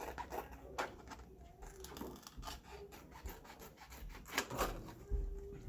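Scissors cutting through laminated paper track diagrams for a model railroad layout, with soft repeated snips and rubbing of the stiff plastic sheet, close and fairly quiet.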